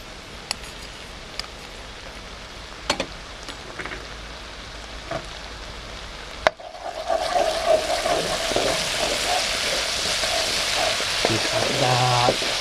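Thai red curry paste hits a hot pan partway through, a quiet stretch with a few clicks giving way to a loud, steady sizzle that keeps going to the end.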